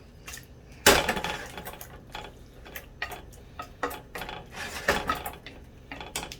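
Zucchini and yellow squash noodles are tossed with shrimp and scallops in a pan, making sharp utensil clacks and metallic scrapes in irregular bursts, one loud knock followed by lighter taps and clinks, close up with no voices.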